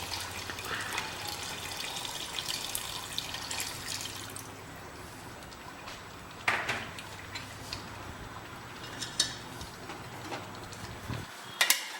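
Mutton stock is poured into a cooking pot, a soft, steady liquid rush for several seconds that fades into quieter sizzling with a few faint clinks and knocks near the end.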